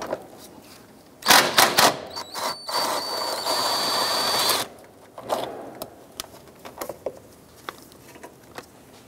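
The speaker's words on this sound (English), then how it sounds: "At the bottom of the air box, you want to go ahead and remove this 10 millimeter bolt." Ratchet clicks loosening a 10 mm bolt at the bottom of the air box on a 2005-2009 Subaru Outback, heard as close, bursty mechanical clicking and rattling in short runs with quieter handling noises between.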